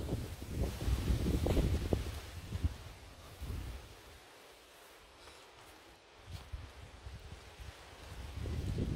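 Gusty outdoor wind buffets the microphone in low rumbling surges, strong at the start, easing to a quieter hiss in the middle, then building again toward the end.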